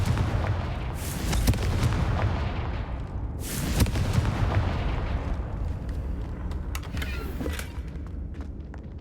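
Confringo fire spell blasts in Hogwarts Legacy: two loud booming explosions about two and a half seconds apart, each trailing off into a rumbling decay over constant background noise.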